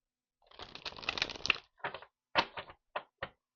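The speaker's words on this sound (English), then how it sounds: "Let me shuffle one more time." Crisp papery riffling of cards being shuffled, a longer flurry followed by several short separate bursts, close and fairly quiet.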